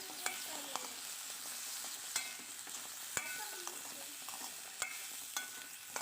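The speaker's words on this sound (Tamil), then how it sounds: "சேர்த்திருந்த கொண்டக்கடலை மசாலாவோடு சேர்ந்து நல்லா மிக்ஸ் ஆகி வரணும்" Chickpea masala sundal fries in a pan under a steady sizzle, with occasional scrapes and taps of a spoon as it is stirred, close and with no talk.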